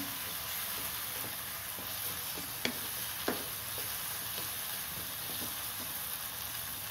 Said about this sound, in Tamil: இப்போ 2 பச்சை மிளகாய் கீறி வச்சுருக்கேன், அதையும் சேர்த்துக்கலாம். அதுவும் வதங்கட்டும்.